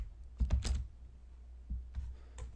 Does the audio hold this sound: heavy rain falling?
no